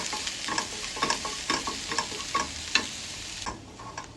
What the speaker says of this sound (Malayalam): എന്നിട്ട് ഉള്ളി സോഫ്റ്റ് ആകുന്ന വരെ ഒന്ന് സോട്ട് ചെയ്തെടുക്കുക.